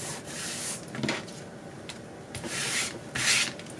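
A fingertip smears and smooths glue inside a paper envelope folio journal, giving soft close rubbing and swishing strokes in uneven bursts, with no talk.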